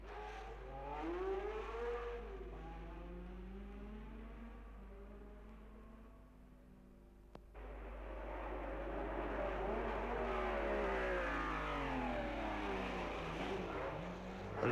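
Cars from the 1963 Monaco Grand Prix lapping the street circuit, their engines rising and falling in pitch. One car fades out, then another loud engine sweeps in and revs hard through the second half.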